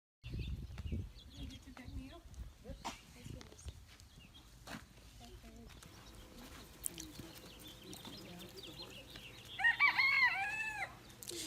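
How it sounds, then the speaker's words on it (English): Roosters crow at a San Diego petting zoo, with harmonic cock-a-doodle-doo calls rising near the end, after quieter clucks and scattered farmyard noise. People talk nearby throughout. "These are roosters."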